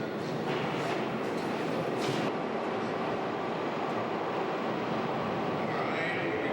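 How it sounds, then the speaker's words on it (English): Subway train pulling into a platform during a film shoot for a terror-in-the-subway scene, a broad steady rumble and roar filling the space throughout, loud and continuous with a faint high squeal near the end. "Train's coming in."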